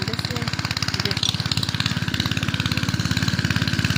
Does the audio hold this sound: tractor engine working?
yes